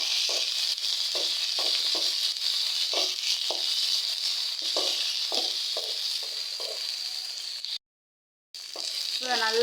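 Onions and dried red chillies fry for mint chutney, a steady hiss of hot oil close by with a series of soft rhythmic stirring taps, one brief dropout near the end.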